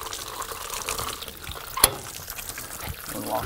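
Water pours and splashes out steadily in a broad rushing wash, with a single sharp knock partway through.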